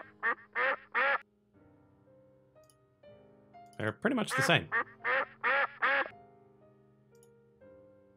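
Duck quack sound effects play as a quick triple burst at the start and then a longer run of loud quacks in the middle, with a person talking briefly between them.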